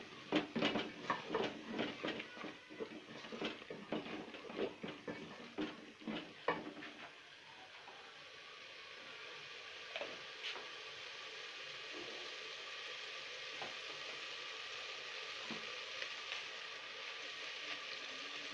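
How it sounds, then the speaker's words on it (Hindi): Spice mix of red chili, coriander and turmeric frying in a pot for a small watermelon bhurta. It opens with a string of quick metallic scraping and clattering strokes, then settles into a quiet, steady sizzle with occasional light taps. "2 मिनट तक इसकी भुनाई करेंगे।"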